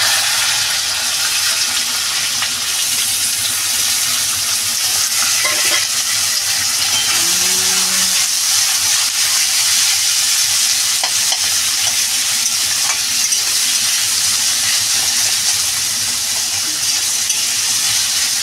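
Sliced onion and potato fry with ginger and garlic in hot oil for a mourala fish curry, a loud, even, continuous sizzle with a few faint stirring clinks and no talking.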